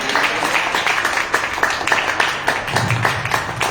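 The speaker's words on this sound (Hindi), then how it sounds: "आप प्रभु यीशु मसीह के सुंदर नाम से सुंदर ताली बजाकर प्रभु यीशु मसीह के वचन का स्वागत कर सकते हैं।" A church congregation in Delhi claps in welcome, a dense, steady wash of many hands lasting throughout at moderate loudness, with no talk over it.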